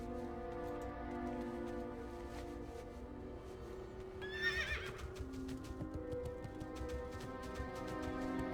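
Mount and dismount of a horse in WoW Classic, with a sharp whinny rising in the middle, hoofbeats and a low rumbling ambience underneath, fairly faint overall.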